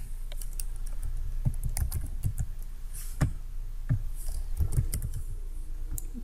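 Computer keyboard keys tapped in irregular bursts while a short password is entered, close and moderately loud over a steady low hum.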